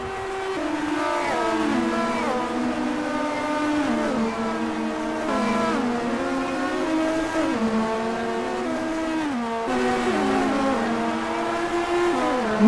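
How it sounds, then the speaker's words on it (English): Onboard engine of a race car at the Spanish Grand Prix, loud and close, repeatedly revving up through the gears and dropping on downshifts in a continuous pattern. "On board now of Grace Hunter, who is struggling down in P12 and has to defend against the BMW."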